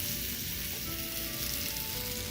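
A buttered tortilla sizzles steadily in a hot pan on the stove, a close continuous frying hiss that holds at an even level throughout with no voices.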